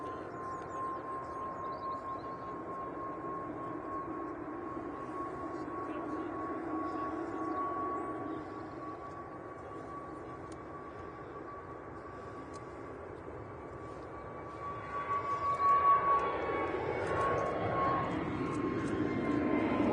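An Airbus A320neo jet airliner rolling and taking off at Manchester Airport, a distant whine and rising engine roar that grows louder toward the end, with people chatting nearby.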